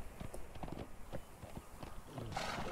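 Horse hooves clip-clop at a steady walking rhythm as a rider travels through the Conan Exiles video game world, moderately close with light ambient game sound and a brief rustle near the end.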